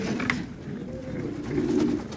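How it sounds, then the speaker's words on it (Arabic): Domestic pigeons coo softly in a loft beside a nest holding squabs and eggs, a low, rolling murmur close by that swells near the end over faint background noise. "هنزل الزغاليل ديت على الحمام السايب وهنقل البيض ده برضو حضنه تحت حمام تاني"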